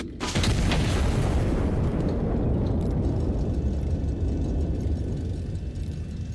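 A cannon fires a cannonball in the Iron Nest game, a sudden heavy boom that swells into a long, loud rumbling roar slowly fading over several seconds.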